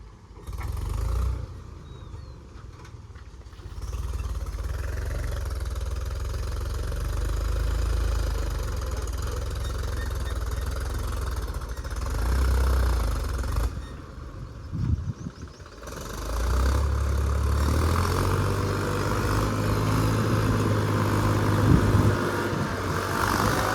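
A tractor engine strains while hauling a loaded trailer that will not climb, giving a continuous rough, heavy drone that dips and surges. It stays close and loud, with no talking.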